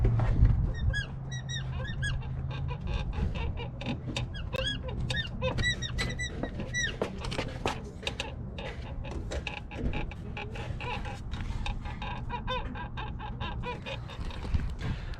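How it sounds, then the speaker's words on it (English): A Ford F150 pickup's suspension squeaks and creaks repeatedly in a rapid, uneven series of high chirps, fairly close and loud over a steady low rumble, with no talking. "the thing squeaks like crazy when I'm driving, and even when I'm just sitting still and getting some pressure on the suspension"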